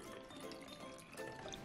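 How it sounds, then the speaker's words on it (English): Water pours into a large test tube, a faint steady trickle and splash running throughout with slight rises in flow. "The first step is fill the large test tube almost to the top with"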